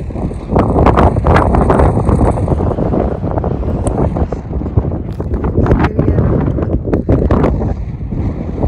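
Strong wind buffets the microphone in a steady, roaring rush outdoors in Sri Lanka, continuous for several seconds with gusty swells and no talking.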